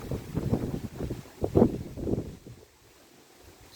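Stormy wind gusts through a dacha garden with a flowering kiwi vine, buffeting the microphone in uneven rumbling bursts before easing to a quieter rush.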